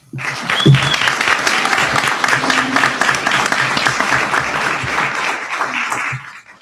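An audience at a Helena city council meeting applauds students. The clapping is loud, dense and sustained, with a brief cheer near the start, and it stops abruptly after about six seconds.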